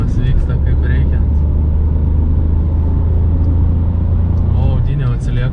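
A car engine strains on a winding mountain serpentine road, a loud, steady low rumble that drones throughout, with brief voices near the start and end.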